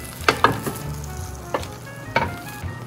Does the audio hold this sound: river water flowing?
no